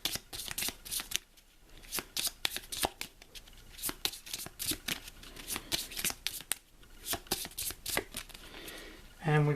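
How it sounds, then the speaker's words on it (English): A deck of game cards from Pandemic: Reign of Cthulhu is shuffled up close, with rapid riffling bursts and sharp snaps repeating over about nine seconds, a voice speaking now and then in between. "and we shuffle it up."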